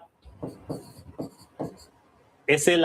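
Handwriting during an economics lesson, several short scratchy strokes in a steady rhythm, close and fairly quiet, then a voice begins speaking at the end.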